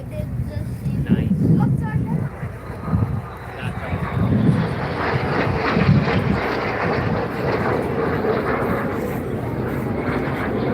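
A Royal Air Force Red Arrows Hawk jet flies past during a solo display, with a steady broad roar that swells and lingers and gusting wind noise over the microphone; people talk faintly underneath.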